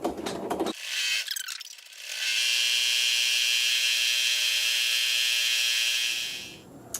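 Embroidery machine stitching quilting through fabric in a hoop, starting with a few clicks and clacks before settling into a loud, steady high-pitched whirring buzz of rapid needle strokes for about four seconds, then stopping with a click.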